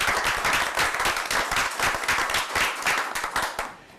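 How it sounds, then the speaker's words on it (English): A room at a town council meeting in Mt Airy breaks into steady applause, many hands clapping densely and fairly close for the whole stretch, tapering slightly at the end. "I'd like to give him a round of applause."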